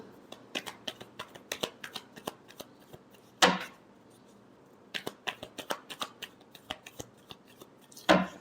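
Tarot cards are shuffled in quiet clusters of crisp, snappy flicks, with two louder riffles standing out, and no voices.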